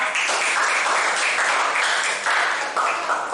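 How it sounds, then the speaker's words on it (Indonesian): A class of students claps together in a classroom, a dense, even burst of applause that stays loud and continuous from start to finish. "Tepuk tangan untuk kita semua."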